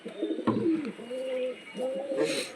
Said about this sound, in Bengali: অসাধারণ পায়রা।